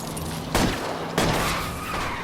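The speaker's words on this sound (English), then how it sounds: "I'll try to shoot out his tires." Two sharp gunshots crack out in L.A. Noire during a car chase, about half a second apart, loud over a constant roaring engine and road noise.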